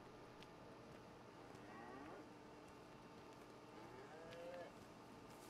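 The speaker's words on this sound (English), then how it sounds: "trying to get close to this cow." A cow in the survival game DayZ lows faintly in the distance at night, two soft moos under a steady hiss of background noise.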